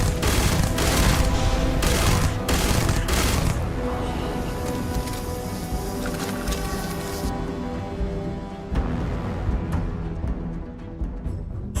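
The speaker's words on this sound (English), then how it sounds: "Man, those rockets are devastating." Sustained automatic gunfire and rocket explosions from the video game Starfield, loud and dense with rapid bursts and heavy impacts throughout, easing slightly toward the end.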